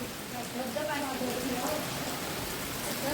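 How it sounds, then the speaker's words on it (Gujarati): Steady rain pattering as a soft broadband hiss, with muffled voices faintly underneath. "પાછો થઈ ગયો વરસાદ ચાલુ ધીમી ધારે"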